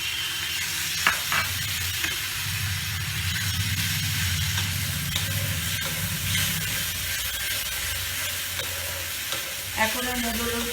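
A paste of fried dried red chilli, garlic and tomato sizzles and hisses in a kadai while being stirred, steady frying with scraping clinks near the end, close and moderately loud.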